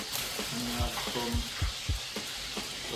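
Tomato and salad mix stirred in a hot frying pan with lime for a Jamaican meal: a steady sizzle with several close, distinct scraping strokes of the spoon, and no voices.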